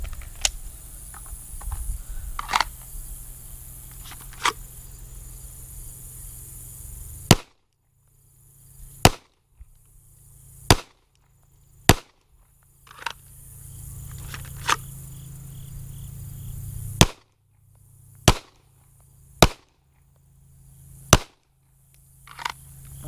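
Glock Gen 5 pistol shots ring out on a shooting range, about a dozen sharp, loud cracks spaced irregularly across the span, each followed by a brief decay with quiet gaps between.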